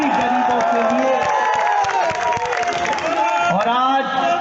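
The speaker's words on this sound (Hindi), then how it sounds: "इसके लिए अगर मन करे तो जोर से तालियां बजाइए उन सभी गरीबों के लिए" A large crowd at a political rally in Badarpur cheers, whoops and applauds loudly and continuously for several seconds, with voices shouting over the clapping.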